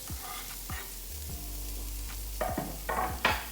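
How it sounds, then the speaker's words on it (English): Spring onions frying lightly in a little butter in a pan already used for asparagus and garlic, a soft steady sizzle with several sharp crackles and spits near the end, with no talk. "take a tiny piece of butter in the same pan where we did the asparagus and the garlic, and just very lightly fry the spring onions"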